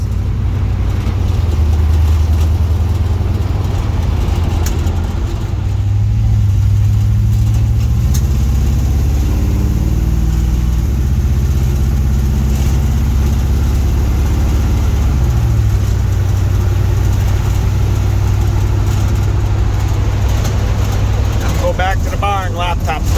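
A 1951 Chevy Bel Air fitted with a 5.3 LS engine drives along, its low engine drone steady and loud from inside the car, with shifting pitch as it pulls.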